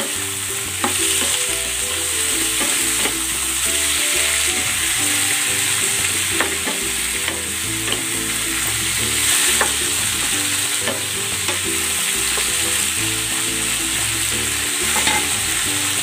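Squid fries in a pan with a steady, loud sizzle, while a utensil stirs it and scrapes the pan in irregular soft knocks throughout, with no voices.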